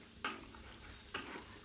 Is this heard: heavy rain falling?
no